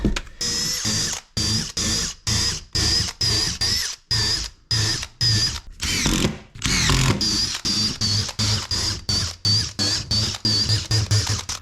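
A power drill drives long screws into solid wood on a wooden boat's cabintop: a close, loud, pulsing whir that starts and stops in quick bursts, with a longer continuous run partway through.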